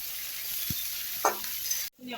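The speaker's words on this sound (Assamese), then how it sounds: "পিঁয়াজখিনি অকণমান ভাজি অকণমান কমি যোৱালৈকে 5 মিনিটমান" Onions frying in a pan for a pigeon curry, a soft steady sizzle with a couple of sharp scraping stirs, then a sudden cut to near silence at the very end.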